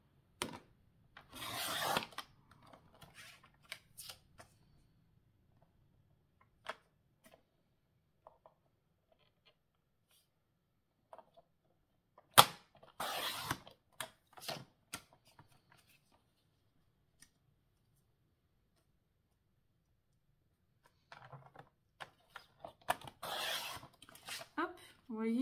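Paper card bases for a pop-up card are cut with scissors in bursts of rasping snips, quiet and close, separated by long silent pauses.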